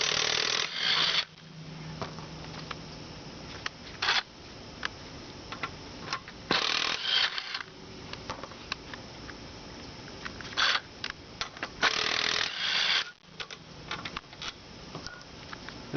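A small impact wrench works on the rear brakes of a 1997 Volvo 850 during a brake pad replacement, firing several loud, close rattling bursts, some brief and some lasting about a second, separated by quieter clicks and handling noise, with no talking.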